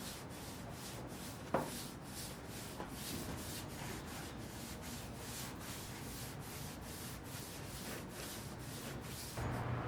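Liquid deglosser rubbed by hand over a truck bed during prep for a roll-on bed coating, a steady close scrubbing and wiping texture that runs continuously with rhythmic strokes and one sharp knock early on.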